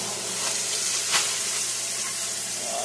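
Coffee-rubbed eye round steaks sear in hot oil in a pan, a steady, dense sizzle and crackle throughout with one brief louder spatter midway.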